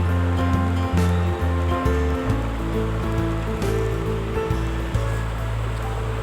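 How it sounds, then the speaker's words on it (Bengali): Wet, sloshing squelches of a thin batter with salt, pepper and water being mixed by hand, a continuous close churning with soft irregular slaps, no talking. "তো দেখতেই পাচ্ছেন আপনারা যে আমি এটা ভালো করে মেখে নিচ্ছি।"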